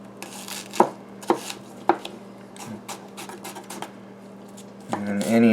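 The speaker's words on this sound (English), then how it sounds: "And then we'll just slice them like so. So we have nice diced pieces." A knife dices onion pieces on a cutting board in a kitchen: a few sharp, close chops spaced about half a second apart, then lighter irregular taps, ending with a voice talking over the work.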